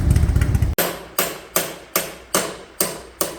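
A hammer strikes a part on a 2001 Harley-Davidson Electra Glide that sat unused for two years, giving seven sharp, evenly spaced metallic blows after a brief burst of rumbling noise.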